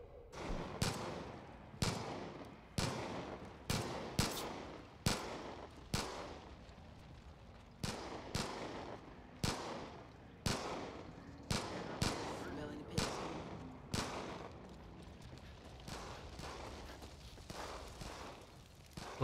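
Repeated gunfire in Far Cry 5 aimed at Joseph Seed: loud, sharp shots in irregular bursts, each followed by a short decay, under occasional speech.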